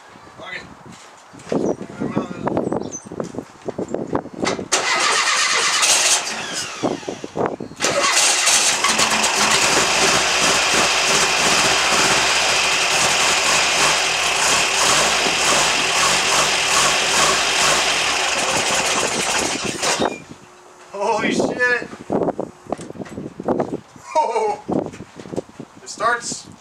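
A VW Type 4 2056cc engine, just refitted with a replacement head, starts and runs at a steady idle for about twelve seconds, loud and close. Broken talk and clatter come before and after it.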